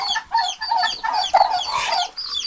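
Turkeys and newly hatched chicks on a farm, giving repeated close clucking and chirping calls in quick succession, fairly loud, without talk.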